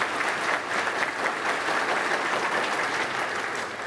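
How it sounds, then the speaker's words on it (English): Crowd at a JROTC veterans recognition ceremony gives a sustained, dense round of applause for veterans and cadets, many hands clapping steadily and fairly loudly with no break. "Please give our honored guests and veterans and ROTC a round of applause."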